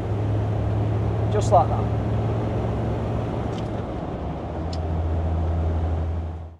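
A Land Rover Defender 90 Td5 turbo diesel with a GTB450 VNT turbo pulls at full throttle from about 20 mph, a steady droning engine note heard from inside that shifts pitch midway, with a person talking briefly over it.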